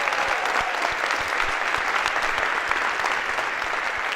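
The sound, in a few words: lecture audience applause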